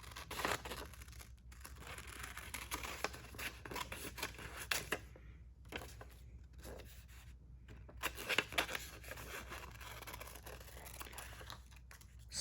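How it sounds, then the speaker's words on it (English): Scissors snipping through printer paper to cut out pictures for homemade clear packing-tape stickers, a steady run of close, crisp cuts and paper rustles with no talking. "I'm going to cut out some pictures."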